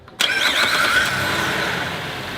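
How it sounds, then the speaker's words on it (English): A car engine cranks and catches after a brief silence, then settles into a steady, loud idle with everything switched on for a battery load test, close by and with no talk. "start the vehicle with everything turned on"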